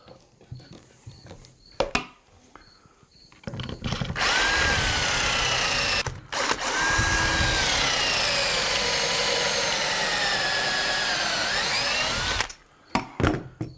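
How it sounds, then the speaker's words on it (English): A small battery-operated drill bores pocket holes in cabinet wood, whining loudly and steadily for several seconds, then pausing briefly before a second long run, with clicks and handling noises around it. "We're just using a little battery operated drill, electric drill you can use too, but right there's your 2 pocket holes."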